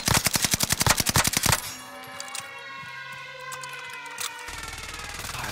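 Rapid automatic gunfire in Call of Duty: Modern Warfare, a fast rhythmic burst of loud shots for about a second and a half, then game ambience with tonal effects and a few scattered distant pops.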